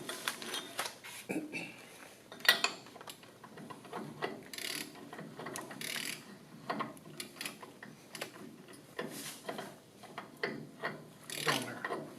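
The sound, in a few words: ratchet socket wrench tightening a bolt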